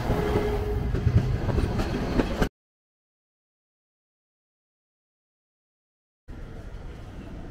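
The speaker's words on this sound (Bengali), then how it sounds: "আজকে আমরা যাব ঢাকা থেকে কিশোরগঞ্জ, ট্রেন নাম্বার 781 আন্তনগর কিশোরগঞ্জ এক্সপ্রেসে" Intercity train 781, the Kishoreganj Express on the Dhaka to Kishoreganj run, rumbles along with rolling wheel noise, then drops to total silence for several seconds before the running sound resumes.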